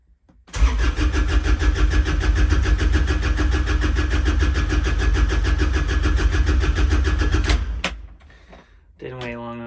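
A cold 2008 Kubota RTV 900 diesel utility vehicle with worn glow plugs cranks rapidly and loudly at close range for several seconds, then the cranking stops and a voice speaks briefly at the end.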